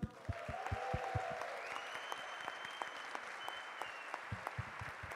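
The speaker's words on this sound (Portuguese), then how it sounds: "quero que vocês façam uma salva de palmas, não para nós, mas para a favela" An audience at an opening ceremony claps with sharp, distinct, moderately paced hand claps, while a faint whistle-like tone rises and falls in the background.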